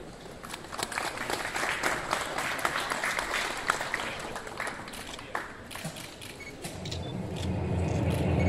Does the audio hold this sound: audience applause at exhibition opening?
yes